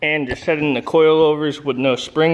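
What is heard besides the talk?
None of the usual background noises is heard.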